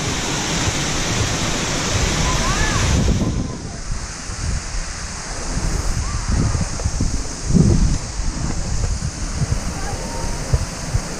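Steady roaring rush of falling water at Cachoeira do Salomão waterfall in Carrancas, Brazil, broadband and continuous, with brief gusts of wind noise buffeting the microphone.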